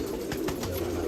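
Pigeons in an old loft on Subhash Road, Nashik Road, coo in low, throaty murmurs over a steady background hiss, close by and continuous for the brief moment, with no voices.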